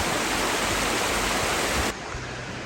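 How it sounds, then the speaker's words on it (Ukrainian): Mountain streams in the Carpathians near the village of Kvasy, Zakarpattia, tumble over stones into a rocky river, giving a steady, dense rushing roar that drops slightly in level near the end, with no voices. "Вон як потічки з гір спадають в тис."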